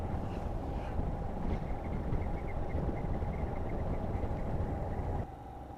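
A motorcycle fitted with a BoosterPlug running while riding, throttle eased up and down slightly: a steady low engine rumble mixed with road and wind noise that drops off abruptly near the end.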